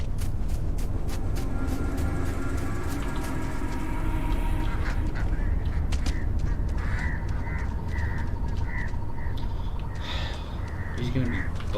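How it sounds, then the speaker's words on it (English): Ducks quack repeatedly in the Starfield video game, short rhythmic calls rising over steady in-game ambience, with a voice talking throughout. "I can hear ducks, but I can't see them."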